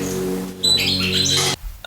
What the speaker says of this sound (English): as you can tell by the birds cackling at him, calling him out